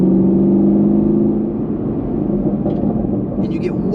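A Chevrolet Camaro 1LE engine hums steadily at mild throttle, a low, even drone that stays fairly constant throughout, with a voice briefly near the end.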